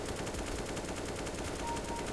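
A full-auto rifle fires nonstop in Counter-Strike: GO, a dense, even rattle of rapid shots held at a steady loud level.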